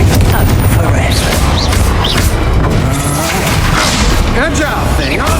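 Booming spell blasts from Confringo casting in Hogwarts Legacy, loud and dense, landing repeatedly amid continuous combat crashes and thuds with voices talking over the fight.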